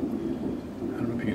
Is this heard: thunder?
yes